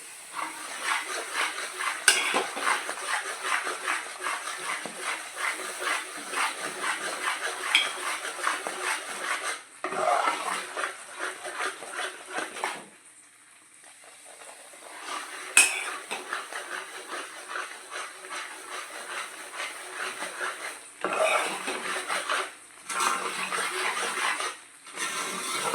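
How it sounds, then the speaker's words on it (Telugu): Mysore Pak sweet mixture is stirred in a pan (kadai) with oil as a metal spoon scrapes and clatters continuously against the pan, with a few brief pauses, close up. "ఇలా ఎంత తిప్పితే అంత మంచిదండి"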